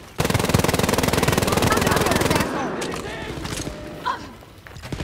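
Wolfenstein Youngblood combat: a loud, rapid burst of machine gun fire rattles continuously for about two seconds, then cuts off, leaving quieter scattered shots and game noise with a voice speaking.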